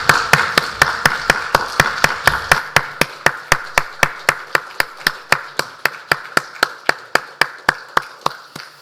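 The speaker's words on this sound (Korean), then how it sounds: "하나님께 영광의 박수를 올려드리겠습니다." A church congregation claps together in praise of God during a Sunday worship service, a steady rhythmic run of sharp, evenly spaced claps that settles into a unison beat, loud and close with no talking.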